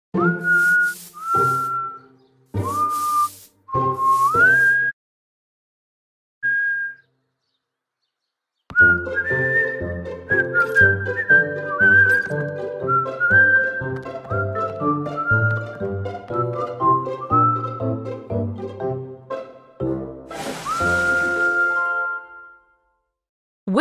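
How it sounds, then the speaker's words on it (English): Whistling notes sound alone: a few short separate toots first, then a longer run of sustained, wavering tones after a pause, ending with a sharp final blast, clear and close. "W is for whistle."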